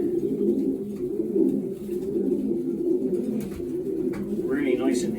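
Racing pigeons coo in a continuous low, rumbling murmur close by, with a few higher calls and flutters rising above it toward the end.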